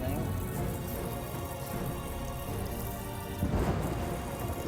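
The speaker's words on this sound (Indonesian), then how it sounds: "hujan turun disertai petir yang menggelegar menyambar-nyambar areal pesawahan" Heavy rain with thunder over rice fields, a dense steady hiss of rainfall with a low rumbling swell near the end, under what seems to be faint voices.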